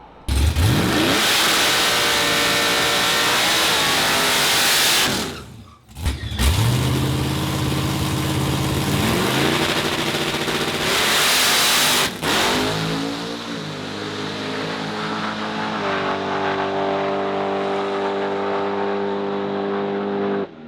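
A procharged COPO Camaro roars down a drag strip, a loud sustained run with a brief gap as the engine drops and surges again, then a long steady high-revving pull that tapers off.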